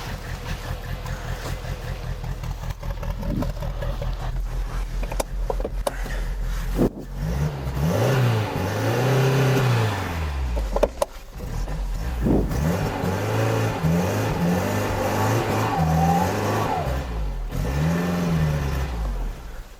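An old car, bound for dismantling and with partly seized brakes, idles as it is eased forward a short distance; a steady low engine drone with several rising and falling revs, close and fairly loud throughout.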